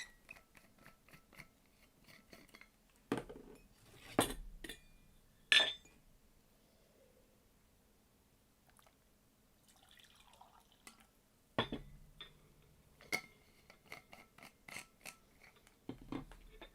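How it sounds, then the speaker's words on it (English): Glasses and dishes clink and tap sporadically as a glass of water is fetched, with quiet drips and faint handling noises between the louder knocks, heard nearby with no talking. "Just let me get a glass of water."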